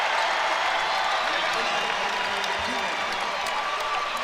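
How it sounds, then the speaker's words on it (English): Crowd applause fills a basketball arena during the Nike Hoop Summit 2023 in Portland, Oregon, for a local player: a steady, fairly distant wash of clapping and murmur running under a commentator's voice. "You hear the applause for Jackson Shustad"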